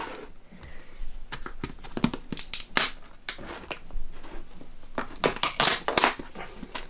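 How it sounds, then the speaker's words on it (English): Sellotape tearing and peeling from a tarantula shipping package holding a Grammostola pulchripes, heard as a close series of sharp rips and crackles in irregular bursts, with no speech. "if I take this tape off"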